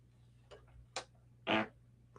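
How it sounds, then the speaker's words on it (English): A few short, soft bursts of a fart, the last one longest and loudest, pop out of near silence close to a microphone. "Any of you pick up that fart I just let?"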